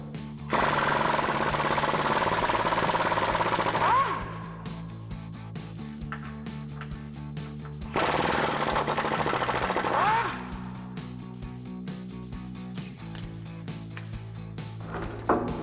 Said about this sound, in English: So now take a 10mm socket and extension to remove those two